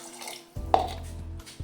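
Water is poured into a cooking pot of groundnuts, producing a short splashing pour with a clink of the vessel, brief and close, followed by a faint knock.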